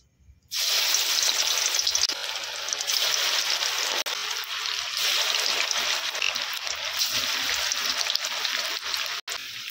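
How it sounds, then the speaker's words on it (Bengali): Kulekhara (marsh barbel leaf) fritters hit hot oil and erupt into a loud, continuous sizzle that crackles steadily without letting up. "তেল গরম হয়ে গেছে, এবারে ছেড়ে দেব"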